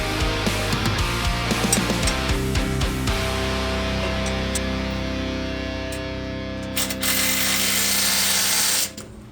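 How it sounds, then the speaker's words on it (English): A ratchet or small power driver spins a camber bolt on a Subaru's suspension, giving a steady mechanical whir with rapid clicking, close and continuous for several seconds before stopping abruptly. "Now I'm going to spin the camber bolt to try and get it exactly where I want it to sit."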